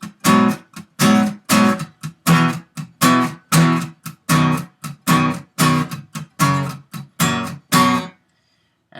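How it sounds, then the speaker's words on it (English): The guitar part plays as a strumming pattern that alternates palm-muted chugs with open strums. Eleven or so rhythmic bursts come close and loud, then the last one cuts off into silence. "What he does is he just palm mutes twice, strums, palm mutes twice again, strums, palm mutes once, and then strums"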